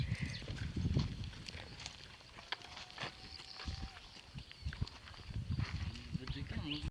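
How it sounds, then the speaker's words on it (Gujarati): A limping mare walking on a farm, her hooves clip-clopping in an uneven rhythm at moderate distance, with people talking over the steps. "ઘોડી કાંક લૂલી થઈ ગઈ છે, થોડીક લૂલી હાલે છે"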